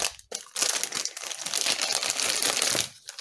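A plastic packaging bag holding a bead embroidery kit with a small wooden figure is crinkled and rustled up close, a loud continuous crackling that runs for about two and a half seconds after a brief opening rustle.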